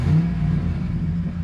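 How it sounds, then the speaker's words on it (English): A Dodge Ram pickup engine revs up as the gas pedal is pressed, a steady low rumble rising slightly, close and fairly loud with no talk over it. "So I'm gonna push the gas."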